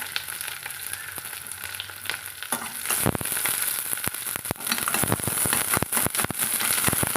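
Curry leaves and three cut green chillies spit and sizzle in hot oil for a ridge gourd milk curry, with a steady hiss that breaks into sharp crackling bursts partway through, close and loud, with no talking.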